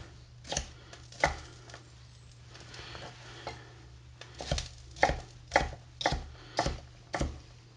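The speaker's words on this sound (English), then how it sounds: "I'm going to slice a little more red pepper," Knife slicing red pepper on a cutting board for sweet and sour chicken, a series of crisp, close chops in an irregular rhythm that quickens toward the end, with a steady low hum behind.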